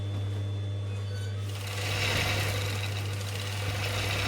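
A sewing machine runs fast through four layers, two of them wadding, its motor whirring in a close, rapid mechanical chatter that grows louder and busier partway through over a constant low hum.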